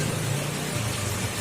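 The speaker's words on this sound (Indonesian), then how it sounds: "Aduh, hujan." Rain falling outdoors on a road trip, a steady broadband hiss of rain with a low rumble underneath, constant and close.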